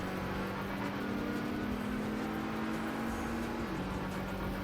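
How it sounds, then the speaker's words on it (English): Struggling race car engine in the Trackmania video game, a strained steady drone that holds one pitch and then dips near the end, set under a dense, noisy wash with no talking. "That poor engine, yeah, that sounds really unhealthy."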